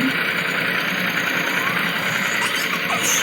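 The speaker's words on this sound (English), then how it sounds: "It's a guy with a tractor." A tractor engine runs in a steady, continuous drone at close range, holding the same level throughout with no clear revving or changes in pitch.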